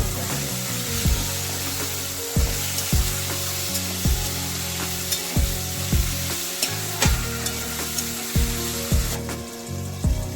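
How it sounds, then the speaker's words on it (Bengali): Potatoes fry with salt and turmeric in a pan, a steady sizzle cut by repeated scraping stirs at a rhythmic pace, close and fairly loud. "পরিমাণ মতো লবণ, হলুদ দিয়ে ভালো করে আলুটিকে ভাজা ভাজা করে নিতে হবে।"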